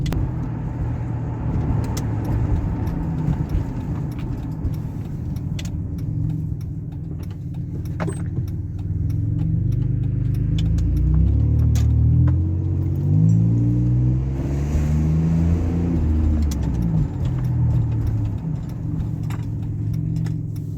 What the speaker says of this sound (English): No more hesitation. Vehicle runs well.